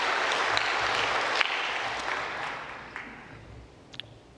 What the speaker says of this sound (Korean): 좋으신 우리 하나님 앞에 다시 한번 감사 박수드리겠습니다.